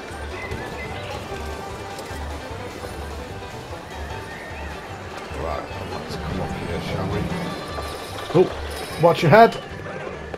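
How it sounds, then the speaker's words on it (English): Horses neighing with clip-clopping hooves in a stables-themed station of a Planet Coaster theme park, whinnies rising near the end over a steady rumbling ambience, with someone talking throughout. "You just hear the horses."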